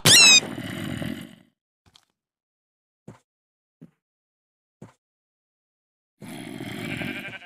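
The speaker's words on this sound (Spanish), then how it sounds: "Tengo una oveja cerca" Sheep bleating in the Minecraft video game: a loud bleat at the start and another near the end, with a few faint clicks in the quiet between.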